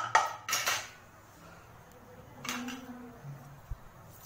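Metal clatter from opening a pressure cooker and handling pots while cooking venpongal, a few bright clanks and scrapes close up, no talking.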